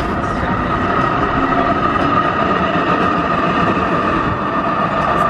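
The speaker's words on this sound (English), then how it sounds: "Train going past." A train rolls past close by, a loud, steady rumble of wheels and carriages on rails with a continuous rushing roar and faint rhythmic clatter throughout.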